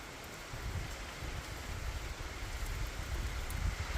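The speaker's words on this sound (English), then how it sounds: "Raining again, giving us more moisture." Steady rain falls outdoors by a barn, a dense even hiss with low rumbling patter that holds at a constant level throughout, with no voices.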